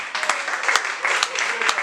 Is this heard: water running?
no